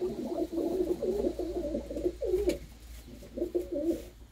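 A blue-and-red hen pigeon and loftmates coo up close, rolling phrases repeating in a steady rhythm with a short pause midway.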